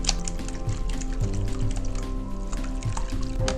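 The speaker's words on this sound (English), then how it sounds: "I'll get these whisked up for us here." Eggs whisked in a bowl for a breakfast casserole, a steady run of quick clicking, sloshing strokes close by, continuous and fairly busy throughout.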